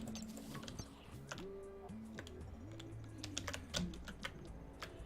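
Keys clacking on a computer keyboard during a Terraria game, quiet irregular taps with stuck keys, over faint game music tones in the background.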